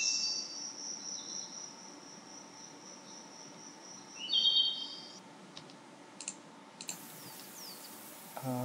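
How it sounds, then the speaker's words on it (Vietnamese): Forest night ambience with crickets chirping steadily and faintly in the background, joined by a few thin high chirps and scattered small clicks. "Nói chung là tiếng rừng đấy."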